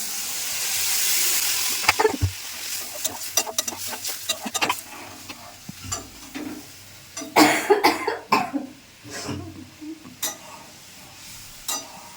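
Water goes into a pan of bata fish curry, first as a brief sizzling hiss, then followed by irregular clanks, scrapes and splashy stirring sounds close up, with no talking.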